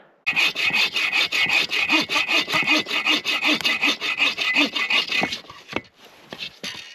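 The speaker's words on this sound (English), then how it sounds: "I'm gonna chop up this one log right here because it's not really being used for anything, and I'll use that for firewood." A full-size hand saw cuts through a log for firewood at a winter camp, with about twenty brisk, evenly spaced rasping strokes close by before the sawing slows and stops.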